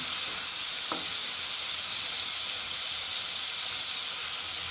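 Eggplant pieces coated with salt and turmeric frying in hot oil over a high gas flame, giving a steady, close sizzling hiss throughout with a brief clink near the start.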